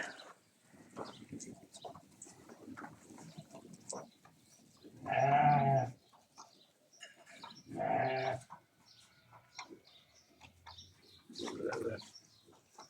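A goat bleats after giving birth, three loud drawn-out cries spaced a few seconds apart, close by, with quieter rustling and faint sounds in between.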